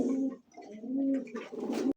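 Two pigeons coo in repeated low, throaty calls close by, with short pauses between phrases and no talking over them; the birds are a pair of Giribaz flying pigeons.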